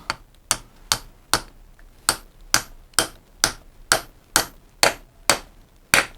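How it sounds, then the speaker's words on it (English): A trailer wheel bearing driven in with a 1-inch socket and hammer: about eleven sharp metallic taps at an even, steady rhythm, close and crisp with no talking. "I've got a 1-inch socket which seems to be about right. I'll just give it a tap."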